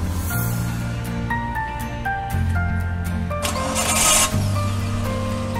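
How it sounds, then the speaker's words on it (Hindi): A car engine turns over and runs after a jump start, its steady mechanical hum shifting in pitch a couple of times as it revs, close and fairly loud, with no voices. "मैं इस गाड़ी को सेल्फ देने लगा हूँ ताकि आप देख सकें कि ये स्टार्ट हो जाएगी।"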